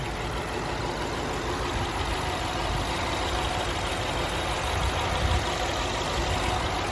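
An armoured 2012 BMW X5's 4.4-litre petrol engine idles steadily and evenly, a constant rumbling hum with no one speaking.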